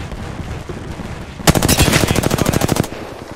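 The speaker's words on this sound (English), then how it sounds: "Shots fired at me." Automatic gunfire in the video game Apex Legends, a sudden rapid burst of evenly spaced loud shots lasting about a second and a half, heard close over a low game ambience.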